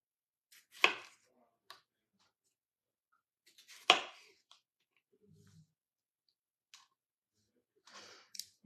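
A freshly sharpened knife chops food in a few sharp, separate strikes spaced seconds apart, close and clear against near silence, with faint small clicks in between.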